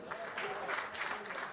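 An audience claps for Christopher, a guest on a lively comedy talk show, with a brief, steady burst of fairly faint applause.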